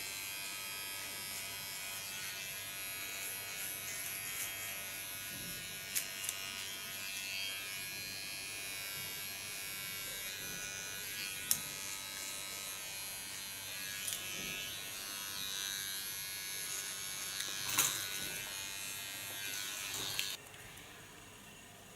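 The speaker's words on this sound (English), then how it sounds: "With a small clipper I clean the contour." A small electric hair clipper trims a hair contour with a steady close buzzing hum that holds for about twenty seconds, with a few faint clicks, and then stops near the end.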